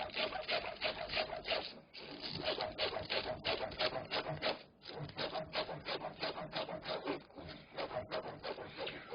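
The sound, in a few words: knife slicing raw anchovies on a cutting board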